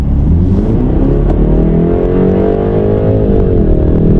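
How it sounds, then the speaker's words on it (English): A BMW X3 30 SUV engine revs in sport mode, a loud, steady interior drone whose pitch climbs and holds high before easing slightly near the end, with no talk over it. "Right away, the RPMs jump up, and you can tell the car wants to be a little bit more aggressive."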